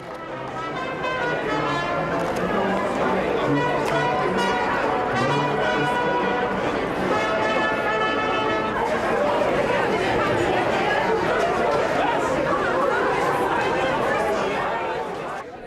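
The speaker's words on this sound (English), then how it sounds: "followed by a crowd of frenzied shoppers breaking into a run" A crowd of frenzied shoppers chattering at a Harrods sale, a dense continuous babble of many voices with music-like tones layered over it, steady and loud throughout.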